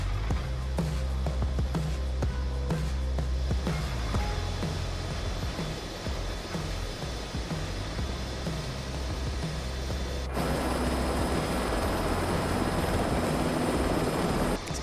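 Helicopter rotor and turbine roar inside Microsoft Flight Simulator 2024, a loud, steady whine and thrum filling the whole stretch with no talk, switching abruptly to a brighter, louder outside view partway through.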